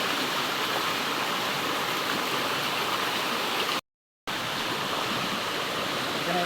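Water flowing steadily at a deep bathing spot in a stream in Nakar, a continuous broadband rush heard close and alone, with a brief dropout near the middle.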